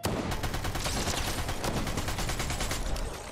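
Rapid automatic fire from a Harbinger SMG in Fortnite, a dense, sustained burst of fast gunshots that runs loud and continuous for about three seconds before easing slightly at the end.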